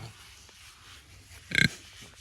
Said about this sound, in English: I think they're like the cutest pigs I've ever seen.